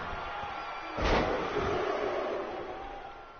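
Crowd noise from a WWE 2K18 Raw wrestling match: a sudden slam-like impact sets off a broad, swelling roar from the arena crowd that holds for a couple of seconds before easing off.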